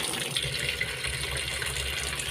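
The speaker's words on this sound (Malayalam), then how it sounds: "വെള്ളം ഒഴിച്ച് കൊടുത്ത് വെച്ചുകൊണ്ടിരിക്കും." Water pouring in a steady, close gush for a couple of seconds, a full rushing splash with no voices.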